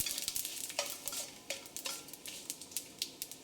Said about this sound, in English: stir these whole spices for about 20 seconds